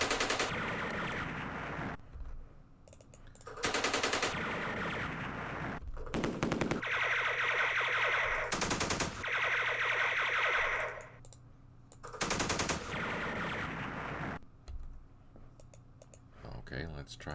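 Video game gunfire from Campaign Series Vietnam, repeated bursts of rapid machine-gun fire and single shots in separate volleys between quiet gaps, mixed with mouse clicks.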